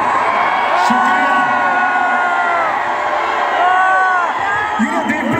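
Large crowd at an Indian movie star's public appearance in Navi Mumbai, shouting, whooping and cheering continuously at close range, with sustained loud yells and high calls.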